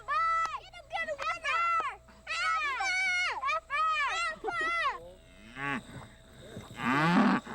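Cattle on a farm moo loudly and repeatedly in long, drawn-out calls close by, some overlapping, with a brief higher cry near the end and quiet background noise between calls.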